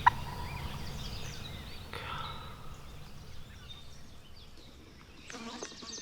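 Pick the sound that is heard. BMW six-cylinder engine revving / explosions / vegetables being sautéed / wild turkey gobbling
wild turkey gobbling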